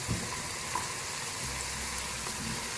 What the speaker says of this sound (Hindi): मिक्सचर जो है हम भून के शामिल करेंगे। छाननी में इसको भून लेंगे